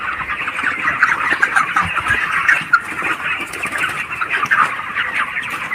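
A dense, continuous chorus of chirping and clucking from a large flock of broiler chickens packed inside a big poultry farm, loud and constant without pauses, with no talking.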